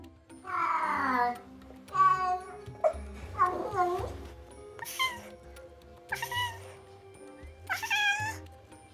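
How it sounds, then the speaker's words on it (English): A Bengal cat gives a series of loud, close meows and chirping, trilling calls in short bursts separated by brief pauses, with a faint low hum underneath. "Bengal cats can make a wide variety of sounds, reminiscent of bird chirps or even creaks."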